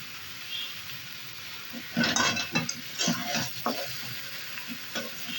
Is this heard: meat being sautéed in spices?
yes